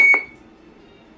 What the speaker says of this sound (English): Roger beep works.